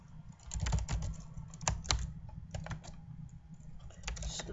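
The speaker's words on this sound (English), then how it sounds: "Just type in your name, your email," Rapid, continuous typing on a computer keyboard while filling in a website contact form, keys clattering up close in quick uneven bursts with no talking.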